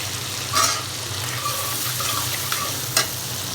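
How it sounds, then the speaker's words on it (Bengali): Potatoes fry in oil with turmeric and salt for a Bengali mixed-vegetable dish with rui fish, a soft continuous sizzle broken by a few short stirring scrapes, close and unaccompanied by speech. "একটু হলুদের গুঁড়ো এবং সামান্য পরিমাণ লবণ দিয়ে আলুগুলি ভালোভাবে ভেজে নেব, বাদামি কালার করে।"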